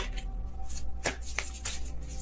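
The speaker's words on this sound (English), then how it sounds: "Kind of sloppy shuffle there." Tarot cards riffled and shuffled by hand at close range, with several crisp, rapid card bursts standing out over a steady low background hum.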